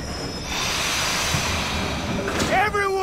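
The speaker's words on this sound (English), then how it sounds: "Train's coming in." A train rolls into a station in a Western-style video game scene, a broad steady rumble and hiss building as it nears, with a rising squeal of brakes toward the end.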